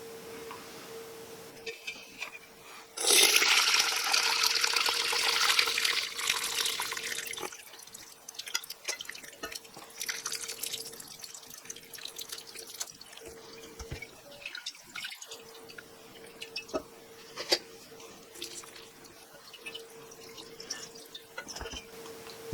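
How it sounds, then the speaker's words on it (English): Cooking liquid from boiled beans poured off while draining, a sudden rushing splash that trails into scattered drips and trickles, fairly quiet and close, with no talking. "save the liquid you get from these beans when you drain them"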